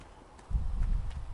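Horse hooves clip-clopping in Dragon Age Inquisition, a soft, steady run of low muffled hoof falls that starts partway in and continues at a walking rhythm, fairly close.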